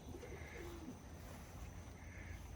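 Soft cooing from racing pigeons settling in a stock loft, low warbling calls rising and falling over a steady ambient hum, faint and somewhat distant, with no one talking.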